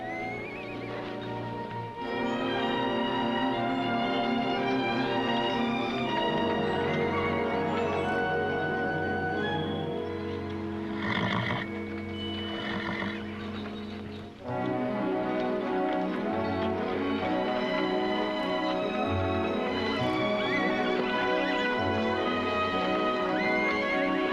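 A stallion neighs and whinnies over hooves clip-clopping at a roundup in hill country. The sound is layered with a continuous loud orchestral film score throughout, and nobody speaks.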